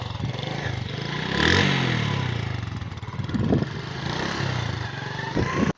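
A motorcycle engine runs nearby, idling with a rough putter and revving up in short bursts before cutting off abruptly.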